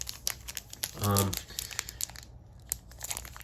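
Foil wrappers of Pokémon trading card booster packs crinkle and tear close up in a burst lasting about a second, with a person talking over and around it.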